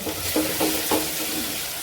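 Tempering for a toor dal recipe sizzles in a pan while being stirred, a soft, close frying hiss with a few brief stirring scrapes and no talk.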